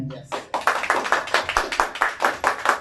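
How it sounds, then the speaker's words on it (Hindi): A small group clapping in a steady rhythm of about a dozen sharp, close claps, with a voice briefly audible at the start. "इतनी ताली तो कभी नहीं मिली जनाब"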